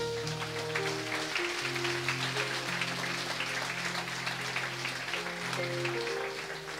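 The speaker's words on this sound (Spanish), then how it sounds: "Fuerte aplausos." Loud applause from a church congregation during a sermon, a steady wash of clapping under sustained keyboard chords that continues evenly throughout.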